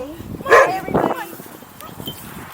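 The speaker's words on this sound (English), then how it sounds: "Yeah, that was a nice dog." A dog gives a couple of short, loud yips close by, mixed in with people talking outdoors.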